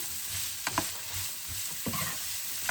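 Vegetables for noodles are stir-fried in a hot pan, giving a steady close sizzle with a few brief scraping stirs and no talking.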